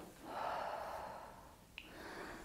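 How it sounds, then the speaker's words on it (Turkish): Deep breathing during a pregnancy leg-slimming exercise session, a slow, soft, close inhale swelling and fading over a couple of seconds, with a brief sharp snort-like sound near the end. "Nefes aldım."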